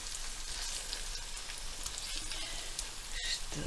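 Cabbage pancake batter fries in a pan with a steady close crackling sizzle, moderately loud throughout, with a light scrape near the end.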